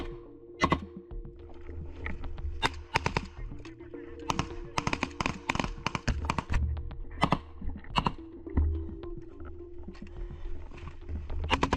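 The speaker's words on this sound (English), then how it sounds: "Then they open direct fire on the bunkers." Gunfire rings out during an assault on bunkers, with sharp single shots and clustered bursts of varying distance cracking irregularly through the whole stretch over a low rumbling background.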